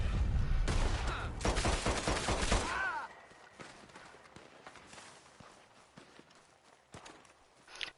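A burst of rapid gunfire in a PS4 video game rattles loudly for about three seconds. Quieter thuds, footsteps and scattered clicks follow.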